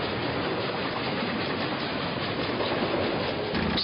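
Wartime troop train carrying divisions toward Moscow, running on rails with a steady, dense rumble and rattle of wagons that stays loud and even throughout, with no voices.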